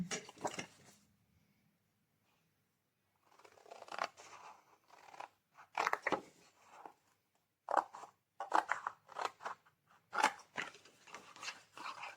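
Scissors cut around paper for a hexagonal gift box. Crisp, close snips come in quick irregular runs after a short pause, and there is no talking.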